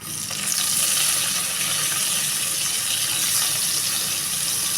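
Tomatoes go into a pan of frying beef salna, setting off a loud steady sizzle and hiss of hot oil that continues without a break and with no one talking.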